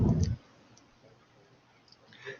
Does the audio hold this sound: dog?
no